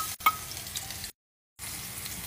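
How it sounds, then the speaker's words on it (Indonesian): Garlic frying in hot oil in a home kitchen while making chicken soup, a soft, steady sizzle with a brief clatter near the start and a short gap of silence midway. "Kau yang sama nak goreng bawang putih pula."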